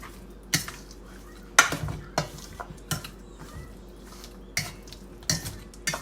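Spoon clinks and scrapes against a metal pot while stirring Jamaican curry being browned for color, a handful of sharp irregular knocks at a steady loose pace over a low background hum.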